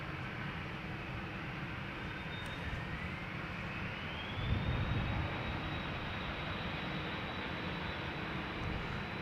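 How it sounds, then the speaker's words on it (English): A Cessna Citation business jet taxis at Amsterdam Schiphol, its engines a steady broadband roar with a rising whine, swelling slightly as it draws nearer at close range. "Right, the Bizjet is pulling up."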